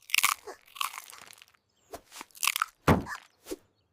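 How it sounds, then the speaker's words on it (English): Salty peanuts crunched in close, loud bites, a few sharp crunchy bursts separated by brief silences. "happily munching on the peanuts with visible satisfaction"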